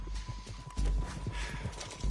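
Horse hooves clip-clop in Red Dead Redemption 2, a steady close rhythm of hoofbeats with heavy low thuds, moving at a brisk pace with no pauses.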